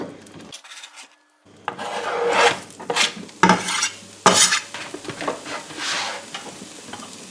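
Chopped onion fries in oil in a pan while a utensil stirs it, giving a steady close sizzle broken by scraping, knocking stirs against the pan. No one speaks.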